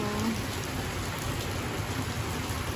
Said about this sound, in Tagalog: Sana makalampas na yung bagyong Titito